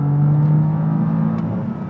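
A turbocharged BMW F80 M4 accelerates hard on a road at high elevation, its engine droning loud and steady as heard from inside the car, with no talking.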